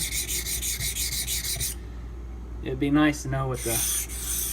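A knife edge is rubbed back and forth on a 500 grit sharpening stone, giving a steady close scraping rasp that stops while someone speaks briefly, then resumes.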